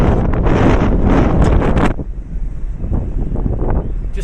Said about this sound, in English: Just a little bit windy though